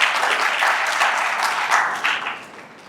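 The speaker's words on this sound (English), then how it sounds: "I want you to give a round of applause" An audience at an anti-illicit trade forum applauds. The clapping is loud and dense and holds steady before fading out near the end.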